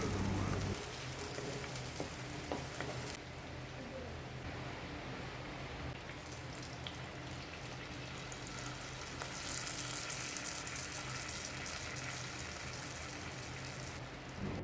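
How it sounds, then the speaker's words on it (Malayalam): Ginger and green chillies sizzle in hot coconut oil for puli inji, a steady close hiss and crackle that surges and eases as the pan is stirred, with no talk over it. "ഞാൻ വെളിച്ചെണ്ണ ഒഴിച്ചിട്ട് അതിലേക്ക് ആദ്യം തന്നെ ഇഞ്ചിയും പച്ചമുളകും ഒന്ന് വഴട്ടിയെടുക്കും"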